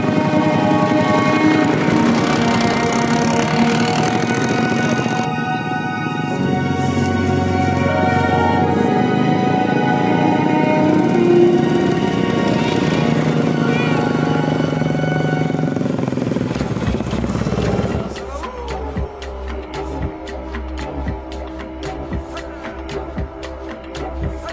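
Motorcycle taxis carrying riders up toward the Mount Rinjani trek, a strong droning engine with shifting harmonic whine that holds for about eighteen seconds before dropping to a rougher, quieter rattle.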